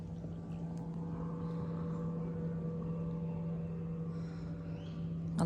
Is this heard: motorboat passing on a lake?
yes